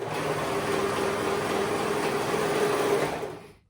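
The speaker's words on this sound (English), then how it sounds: "I'm going to be using my serger today" A serger sewing machine stitching shoulder seams of a light jacket runs steadily in a continuous mechanical whir, close and even, then stops near the end; no talking.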